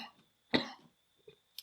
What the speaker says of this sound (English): Cough is still there.